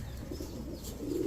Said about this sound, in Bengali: ব্ল্যাক হাঙ্গেরিয়ান বিবিক বুদাপেস্ট একটা রানিং মাদি কবুতর